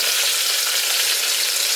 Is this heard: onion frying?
yes